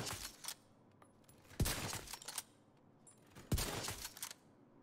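Two loud, sharp sniper rifle shots in a PvP/PvE shooter video game, about two seconds apart, each with a booming low thump, a bright crack and a short tail. Quieter clicks and mechanical noise sit between them, with no talking.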